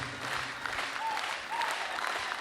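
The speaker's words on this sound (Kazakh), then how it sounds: "Қол шапалақ, қолдарыңызды көрмесін." Concert audience at a show applauds steadily, a dense, even wash of many hands clapping from start to finish, with a couple of faint brief tones rising above it.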